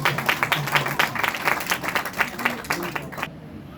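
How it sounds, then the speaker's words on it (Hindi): Loud, sustained applause from an audience at a Hindi poetry recital, dense clapping with distinct individual claps that cuts off abruptly near the end. "एक बार जोरदार ताली"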